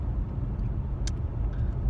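Steady low road rumble of a car cruising along, with tire and engine noise filling the low end and a brief faint clink partway through.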